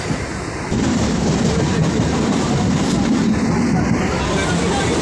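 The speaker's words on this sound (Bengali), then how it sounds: "আমাদের ট্রেনটি এগিয়ে চলেছে" A train rolls along the tracks with a steady low rumble and faint rattling of the carriages, continuous and close.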